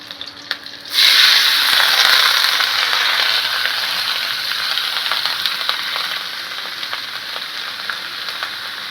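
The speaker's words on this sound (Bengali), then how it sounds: "এবার কুচি করে রাখা চাল কুমড়োটা দিয়ে দেবো" Chopped ash gourd hits a hot pan of mutton curry with green chillies and bursts into a loud, steady sizzle that keeps going for about eight seconds, easing off only slightly.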